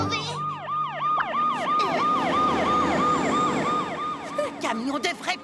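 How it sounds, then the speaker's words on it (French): A fire truck in a cartoon wails with a fast, rising-and-falling siren, loud and steady, with a brief voice near the end. "Un camion de vrais pompiers, toute sirène dehors."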